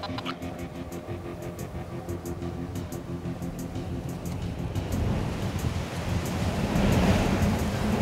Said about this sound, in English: Look at the waves on the harbor.